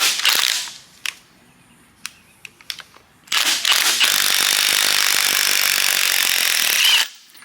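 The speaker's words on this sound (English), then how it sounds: "with a drill" A power drill runs a puller to remove the harmonic balancer from a small block Ford 351 Windsor engine: a few short whirring bursts and clicks, then one long, loud, steady spin lasting several seconds before cutting off.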